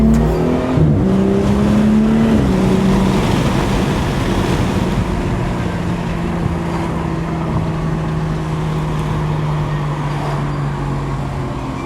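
A Dinan S3 tuned BMW M235 drives down a straightaway, its engine droning steadily with a rising then falling tone, heavily buried under loud roaring wind noise throughout.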